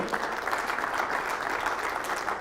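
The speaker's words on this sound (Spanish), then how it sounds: "Un aplauso en esta tarde" A congregation applauds during a church sermon, a dense, steady wash of many hands clapping at moderate distance with no break, filling the whole stretch without talk.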